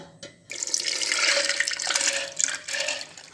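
Soaked urad dal is rinsed under a running kitchen tap for masala dosa batter, with steady splashing water in a sink and swirling as the lentils are washed, close and continuous throughout.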